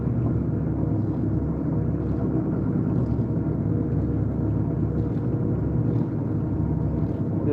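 Gillnet drum spooling out aboard the salmon gillnetting vessel F/V Nancy in Alaska, a steady, dense low mechanical rumble with a droning engine tone, constant and unbroken.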